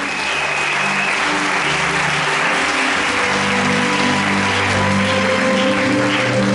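A church congregation applauding during a worship service, dense sustained clapping from a large crowd that fills the room steadily throughout.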